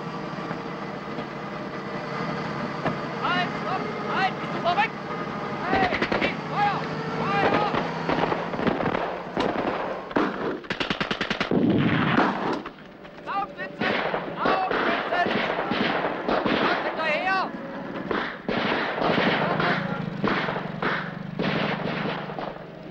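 Gunfire in a 1984 Soviet film scene, with soldiers shooting from the back of a truck: rapid volleys of shots crackle over engine rumble, and shouting voices mix in throughout.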